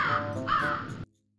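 A crow caws loudly and close by just outside a window: two harsh, rasping caws run together, then stop abruptly into silence.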